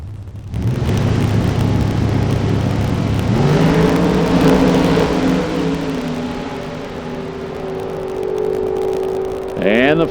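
Drag race cars including a red Chevrolet Monte Carlo at 202 mph roar continuously, the engine pitch climbing as they accelerate, with a commentator talking over the sustained loud drone.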